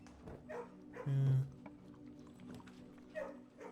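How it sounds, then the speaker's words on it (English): Dog in the video game Blue Prince giving a few short yips and barks when patted, one louder bark near the middle, with faint background sound between. "And pat that dog."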